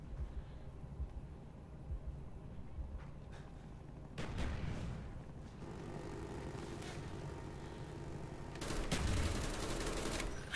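Gunfire in Call of Duty: Black Ops, rumbling bursts of shots and distant blasts that swell louder toward the end, with a voice briefly talking underneath.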